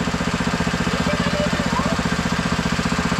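A small water pump engine runs steadily at close range with an even, rapid chugging pulse and no break.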